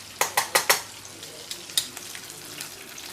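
Spring rolls frying in oil in a home kitchen, with a quick run of four sharp crackles and stirring clatters followed by sparser pops over a soft sizzle, close and fairly quiet.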